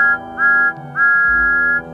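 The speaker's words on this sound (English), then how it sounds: "Just then, they heard a whistle echo in the distance." A steam engine whistle sounds two sustained, tonal blasts with a brief gap between them, clear and fairly loud rather than distant.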